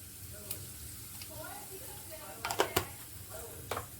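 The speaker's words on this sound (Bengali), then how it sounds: "তেল গরম হয়ে গেছে, একটু 5 ফোড়ন দেবো।" Panch phoron spices sizzle in hot white refined oil in a pan, a steady crackling hiss with a few sharper pops and spits near the end, and a faint voice in the background.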